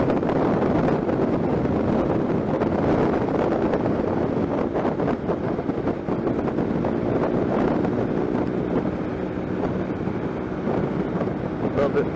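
Strong wind buffets the microphone on an outdoor run, a loud, continuous rumbling roar that fills the whole stretch with only slight dips in strength.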